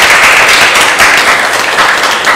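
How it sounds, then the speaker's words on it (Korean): A loud, dense wave of applause fills a hall at a civic education conference opening ceremony as a professor is introduced, many hands clapping continuously up close. "뜨거운 박수 축하해 주시기 바랍니다"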